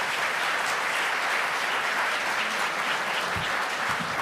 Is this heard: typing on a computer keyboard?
no